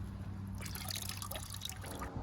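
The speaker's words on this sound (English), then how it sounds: "So I'm just dipping it in the water, trying to get it as clean as possible, get as much soil off of the roots as I can." Pepper plant roots dipped and swished in a container of water to rinse off soil, giving a continuous close sloshing and trickling wash.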